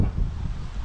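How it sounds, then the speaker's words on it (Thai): Strong wind buffets a microphone at a mountain campsite near tents, a dense low rumbling roar filling the short moment without any other clear sound. "ลมแรงมากเลยครับ"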